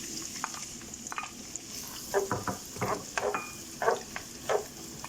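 Chopped onions sizzle in oil with a steady hiss while a utensil clanks and scrapes against the pan in scattered bursts.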